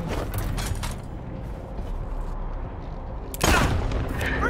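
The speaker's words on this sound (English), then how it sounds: "Did he just shoot me?" Gunfire in the video game Wasteland 3: a cluster of sharp shots at the start, then a low rumble, and a louder burst of shots near the end.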